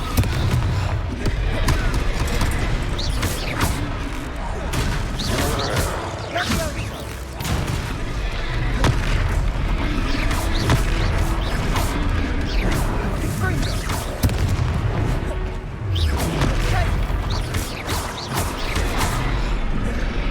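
Fire-spell blasts and crashes in a Hogwarts Legacy battle against trolls, dense and loud throughout, mixed with game music and effects, with no talk audible.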